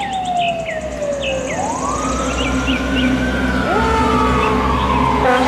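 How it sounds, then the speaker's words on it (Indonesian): A toy fire truck siren wails loud and close, rising and falling in long electronic sweeps over a steady hum, with faint chirping tones behind it. "Mobil truk pemadam"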